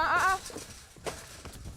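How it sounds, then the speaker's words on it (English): Goats bleat in a short burst at close range, a loud harmonic cry at the start, then quieter scuffling and knocks as a herd is loaded into a two-horse trailer. "how do I get all those goats into this trailer?"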